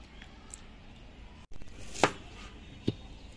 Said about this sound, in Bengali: পেঁয়াজগুলো একটু মোটা মোটা একটু বড় বড় করে কাটতে হবে।